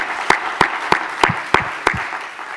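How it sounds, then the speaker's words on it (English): A reunion gathering claps for an absent honoree: six sharp, evenly spaced claps ring out in a steady rhythm, close and distinct, over a quiet murmur of room noise. "Let's clap for her anyway."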